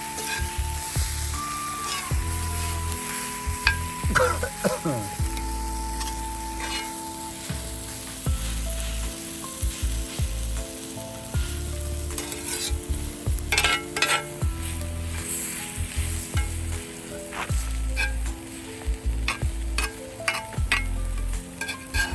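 Egg kothu parotta frying and being mixed in a pan makes a continuous loud sizzle with repeated scraping and clinking of spoons against metal, in irregular stirring bursts, with no voices.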